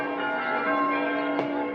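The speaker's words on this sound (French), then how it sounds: "Les cloches sonnent" Church bells ringing in New Caledonia to greet news of the Normandy landings, a sustained resonant tolling with steady overlapping tones and one brighter strike near the end, heard alone.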